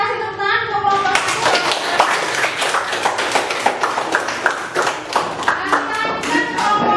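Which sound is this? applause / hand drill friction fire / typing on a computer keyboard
applause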